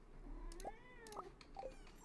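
A male cat named as a kitty meows repeatedly in an upset, talkative way: three short rising meows spaced about half a second apart, moderately close, over a faint room background with no talk.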